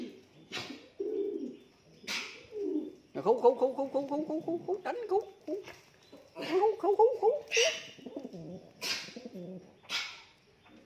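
A pigeon gives repeated rolling coos in short bursts, close and clear, while someone talks between and over the calls.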